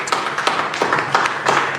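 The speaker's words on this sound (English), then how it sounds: "Put your hands together for her. Keep clapping till she sits in one." Audience applause at a live talk event, a loose ripple of hand claps with periodic denser bursts, steady and moderately near with no voices over it.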